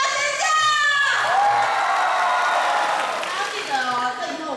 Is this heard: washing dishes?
no